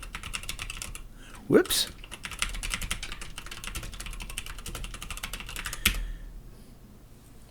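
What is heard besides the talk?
typing on a computer keyboard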